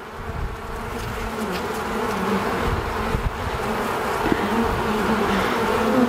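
Honey bees crowd over a brood frame in an open hive, making a dense, steady buzz that stays close and loud throughout without a break.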